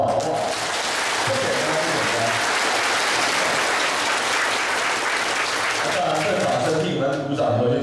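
Applause from an audience at a political meeting with county officials, a dense, loud, continuous wash of many hands clapping that holds steady for several seconds before thinning slightly at the end.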